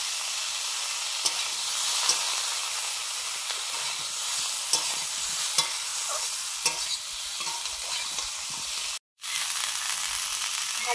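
Cauliflower and potatoes fry with turmeric, chilli and salt in a pan, giving a steady close sizzle broken by scattered clicks and scrapes of stirring, with one brief silent gap near the end.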